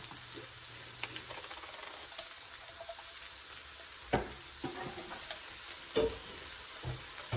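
Garlic sizzles in a new pot for braising chicken thighs, a soft continuous frying hiss close by, with several clinks and scrapes of a spoon stirring at irregular moments.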